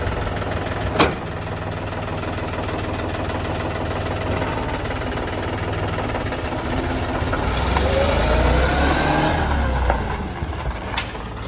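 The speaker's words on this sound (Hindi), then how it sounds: "इस ट्रैक्टर का जो साउंड है ना, वो आज तक मतलब किसी ट्रैक्टर में आता नहीं है ऐसा साउंड। इतना बढ़िया साउंड है।" A Swaraj 855 FE tractor engine runs steadily nearby with a knocking diesel idle that swells slightly louder toward the end. Faint voices can be heard under the engine.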